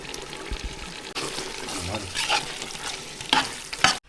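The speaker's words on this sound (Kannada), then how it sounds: "ಈಗ ಬಿರಿಯಾನಿ ಮಸಾಲ ಹಾಕ್ತಾಯಿದ್ದೀನಿ." Mutton with biryani masala sizzling in a pan while a spoon stirs it, with scraping strokes and bursts of frying hiss, close and fairly loud.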